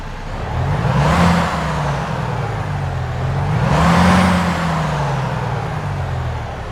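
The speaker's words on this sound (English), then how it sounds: "let's go ahead and get this Volvo started up and get on the road" A heavy Volvo VNL truck diesel engine in American Truck Simulator starts and revs up twice, a deep rumble swelling and easing with a whooshing rise in each surge.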